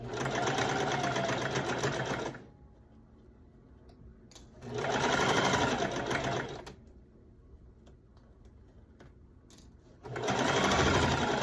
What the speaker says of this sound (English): Exactly where we pinned it is what you should be sewing.